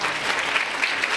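A crowd at a religious sermon breaks into loud, dense applause, many hands clapping together in a steady roar.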